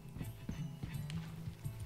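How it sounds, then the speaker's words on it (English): A mare in Red Dead Redemption 2 clip-clops along with a brisk, regular hoof rhythm, close and clear, with a brief low whinny mixed in. "Gosto muito do cavalo, da égua, neste caso."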